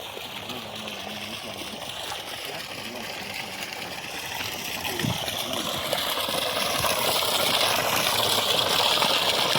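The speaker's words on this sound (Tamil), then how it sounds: "தண்ணியோட ப்ரெஷர் போயிட்டுருக்கு." Water from a 780-foot borewell, pumped by a 3000W BLDC solar motor in a village in Dharmapuri district, gushes in a steady rushing stream that grows louder over time.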